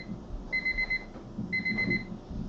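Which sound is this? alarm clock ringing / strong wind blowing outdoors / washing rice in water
alarm clock ringing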